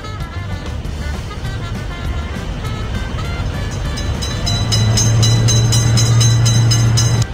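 In a children's crossing-gate game, a cartoon train rolls by with a steady mechanical rumble that grows louder partway through, joined by a long low horn-like tone and quick repeated clatter.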